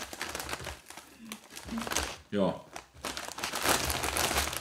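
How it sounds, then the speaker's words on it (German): Plastic crisp bags from Kaufland's Exquisit range being opened during a tasting: crackly crinkling and rustling that keeps going close to the microphone, while a person talks and speaks a single brief word. "da haben wir schon wieder 4 Tüten offen"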